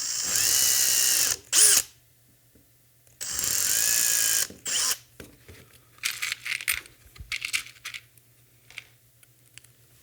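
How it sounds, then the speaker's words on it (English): A power drill whirs loudly in two sustained bursts, each with a short trailing rev, followed by scattered clattering and handling noises. "And then we'll drill the last two."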